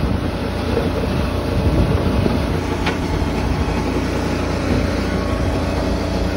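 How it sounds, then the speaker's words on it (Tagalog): The engine of a large fishing boat making ice, a loud, continuous mechanical drone with a steady low rumble that stays close and unbroken throughout, with no voices. "Medyo maingay lang mga idol yung yung makina dahil nagkakaroon sila ng yelo."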